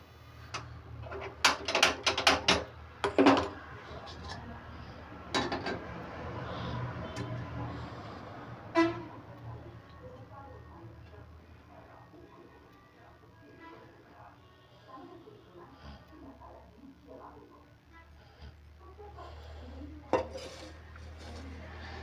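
A metal kadai wok for frying chicken is set onto a kitchen stove with a burst of loud clanks and clatters early on, followed by softer scattered knocks, quiet room tone and occasional talking.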